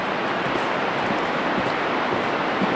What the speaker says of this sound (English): The river that you can probably hear running behind us